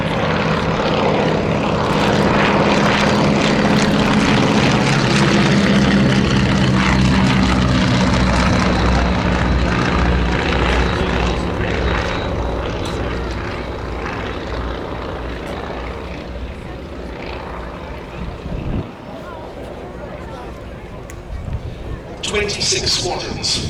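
Avro Anson and Bristol Blenheim propeller aircraft sweep past together at an air show, a loud sustained engine drone that swells and then fades as they move away, with crowd talk and voices underneath.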